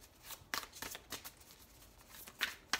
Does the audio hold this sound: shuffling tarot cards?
yes